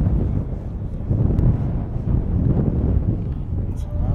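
Wind blows hard across the microphone at an RC model flying field, a loud, continuous low rumble with gusty swells that fills the whole stretch.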